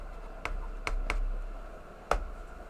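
A few separate computer keyboard keystrokes tap out at an irregular pace, with a pause before one final, louder key press, recorded close up in a quiet room.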